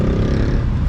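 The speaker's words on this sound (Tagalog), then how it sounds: "kung naririnig niyo yung tricycle" Tricycle engine heard from inside a quiet DIY-converted EV, a low rumbling motor drone that stays steady and fairly close for about a second, with no talk over it.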